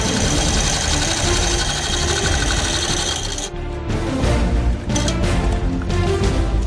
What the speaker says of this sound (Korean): 곡선 형태인 끝부분은 모서리 전문 재봉틀로 옮겨서 작업을 해야 다금질 모양이 예쁘게